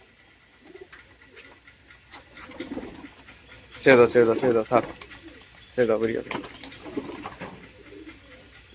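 Pigeons in a loft give soft, throaty coos in a couple of louder bursts, while a person speaks nearby over the birds.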